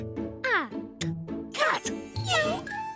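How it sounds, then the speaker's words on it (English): A cartoon cat in a children's animated spelling show meows three times in rising and falling cries, close and clear, with bright music and a short spoken bit between them. "Cat."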